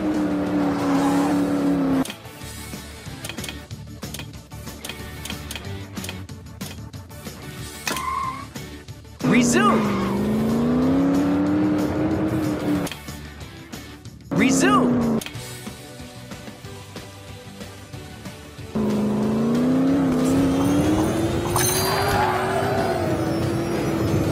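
A monster truck drives itself in the Blaze and the Monster Machines: Axel City Racers game on PS4. Its engine whines loudly and steadily, the pitch sweeping up and down, with a few short drops.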